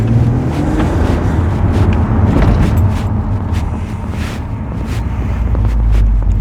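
A 2007 Audi TT Roadster 3.2 VR6 Quattro DSG, roof down, gives a loud, steady low exhaust rumble after starting, heard up close for several seconds.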